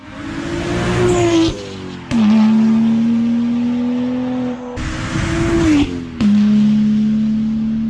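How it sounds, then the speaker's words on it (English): A loud manual BMW engine holds a steady drone, cutting off sharply twice as the clutch goes in for gear changes, with abrupt exhaust bangs at each break before the roar resumes. "when you let off and you put your clutch in to change gear, it does this almighty bang"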